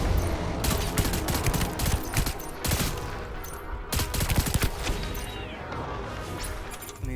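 Rapid bursts of assault rifle fire in a Death Stranding firefight against terrorists on hard difficulty, dense overlapping volleys with sharp cracks and impacts, loud and close throughout, no talking.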